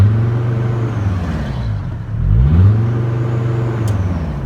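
Mercedes Sprinter van engine with its turbo actuator unplugged and running in limp mode, revving up from a steady idle drone around the midpoint, then settling back to a level, close hum.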